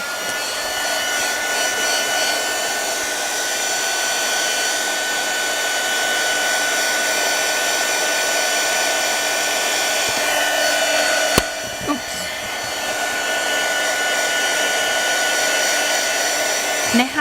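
A hair dryer drying paint on a canvas blows continuously at a loud, steady whine, with a brief clunk partway through as it keeps running.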